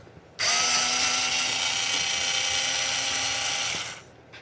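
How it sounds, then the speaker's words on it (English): A power driver whirs steadily for about three and a half seconds while loosening screws on an aluminum rear hub of an RC car, close and fairly loud, starting and stopping abruptly. "Crack these loose. Leave a little space there. And the rear screws have got to come all the way out."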